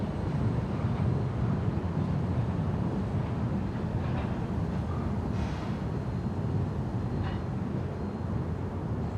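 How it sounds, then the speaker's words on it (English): A long freight train of 115 wagons passes in Minnesota, producing a continuous, even low rumble and roar throughout, with no voices. "There were 115 wagons in this train."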